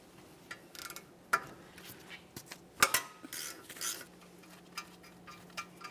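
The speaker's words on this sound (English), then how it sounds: "we can start removing our four 12mm mounting bolts that hold the wheel bearing and rotor to that steering knuckle" A wrench loosens the four 12mm mounting bolts holding the wheel bearing and rotor to the steering knuckle of a 1994-1997 Honda Accord, heard as scattered faint metallic clicks and clanks with a few sharper knocks against quiet background.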